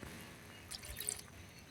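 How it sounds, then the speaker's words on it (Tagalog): A small splash of water goes into a pan of ginisang balisara: a faint, brief trickle and a few drips over a quiet background, with no talking. "Lagyan natin kunting tubig lang mga idol."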